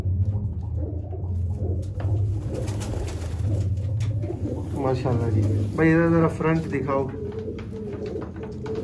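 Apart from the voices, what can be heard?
Ali wala pigeons cooing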